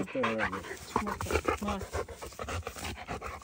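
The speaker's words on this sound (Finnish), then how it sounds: "pikkusen haukkuu ja pikkusen vinkuu" A dog pants and whines nearby during a character assessment, with short high whimpers and brief bark-like bursts over steady panting.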